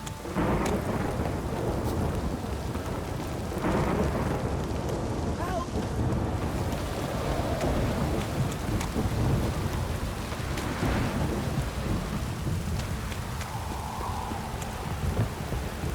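Steady heavy rain pours throughout in The Witcher 3: Wild Hunt, with low rumbles of thunder rolling in and out underneath the constant wash of water.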